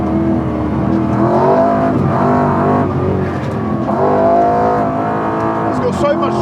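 A BMW V8-powered Mini accelerates hard and shifts gears quickly, a loud close engine roar rising in pitch and dropping at each shift, with people talking over it inside the car.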